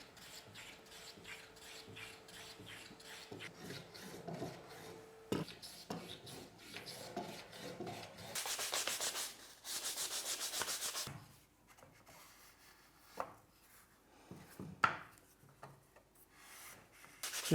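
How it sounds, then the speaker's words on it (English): Hand sanding on a wooden magazine rack part, soft rubbing strokes with a couple of louder, sustained scrubbing bursts midway, among faint knocks and handling noises. "so focus on that with the sanding a bit more"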